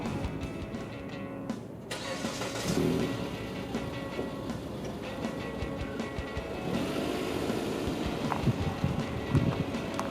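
Interior cabin sound of a 2015 Mitsubishi Outlander VRX with a 2.4L petrol engine and 4WD while driving: a steady low engine and road rumble with some wind noise. It stays continuous and moderate throughout, with no talk.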